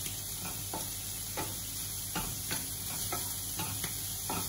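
Melted butter in a pan gives off a faint, even sizzle, with soft stirring ticks scattered through it at close range.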